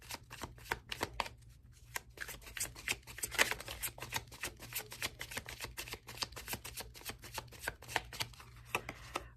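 Tarot cards shuffled by hand in a brisk, steady riffle of crisp papery flicks, close and continuous, with a few pauses as cards are drawn from the deck; no voices.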